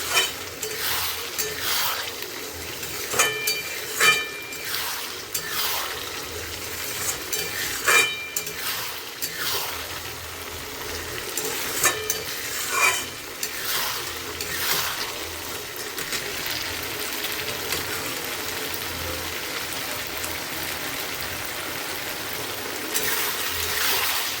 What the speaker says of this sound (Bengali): ওর মধ্যে দিয়ে দিয়েছি আলু আর চালটা, এটা দিয়ে একটুখানি ভালো করে কষাবো।